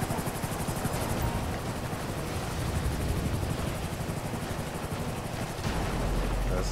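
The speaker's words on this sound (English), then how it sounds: "So the rescue helicopter is sending down a basket, and we're gonna try to get them into the basket here." A rescue helicopter in the video game GTA 5 gives a loud, continuous rotor drone that holds steady throughout, with a brief shift in the engine noise near the end.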